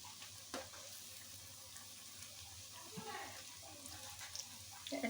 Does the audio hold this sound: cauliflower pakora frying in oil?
yes